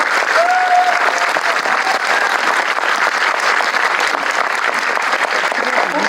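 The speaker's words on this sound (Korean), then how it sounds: "주영 배우께 오늘 큰 박수 다시 한번 보내주시기 바랍니다" After a screening of the film Green Night, the audience applauds actress Lee Joo-young, sustaining loud, dense clapping that fills the hall throughout, with a faint voice briefly audible early on.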